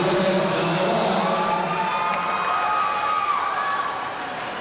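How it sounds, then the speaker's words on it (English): Crowd cheering and shouting at a men's volleyball match in an indoor arena, a sustained broad roar that stays loud throughout and eases slightly at the end. "Back-to-back hits and the crowd has come to life"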